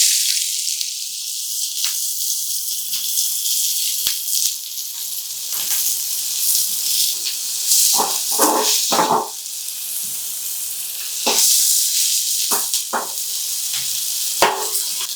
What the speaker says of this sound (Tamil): எண்ணெய் காஞ்சிருச்சு. நம்ம நறுக்கி வச்ச 100 கிராம் வெங்காயத்தை சேர்த்துக்கலாம்.